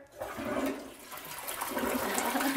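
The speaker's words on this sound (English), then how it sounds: "is Greywater that is flushing that toilet" A toilet flushed with reused greywater in a green home rushes and gurgles loudly, the swirl of water building steadily over a couple of seconds with no talking.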